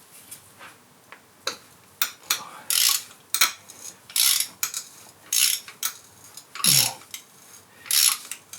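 Gritty ratcheting and scraping bursts as a spark plug is turned loose on an Audi TTS Mk2, irregular rhythmic clicks and grinding pulses, close up, no talking.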